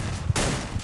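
Gunfire in a battle royale video game: a short, sharp burst of shots crackles amid a dense, noisy game backdrop, lasting under a second.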